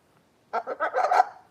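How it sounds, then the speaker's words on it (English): A military macaw parrot lets out a short burst of harsh, throaty calls, several quick squawks running together for about a second and close to the microphone. "He's a military macaw who's just sassy and rude."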